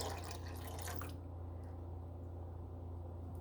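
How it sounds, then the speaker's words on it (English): A quarter cup of vinegar poured into milk just off a light boil on the stove, a soft steady liquid stream with faint drips that stops after about a second, leaving a quiet hum. "I'm gonna pour in a 1/4 cup of vinegar"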